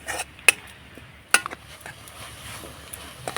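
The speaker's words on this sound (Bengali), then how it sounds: "এবার নাড়াচাড়া করে আমি পুরটা তৈরি করে নেব" A spoon stirs melted jaggery and grated coconut filling in a pan, soft scraping and shuffling punctuated by a few sharp metallic clinks against the pan, close and quiet, with no talking.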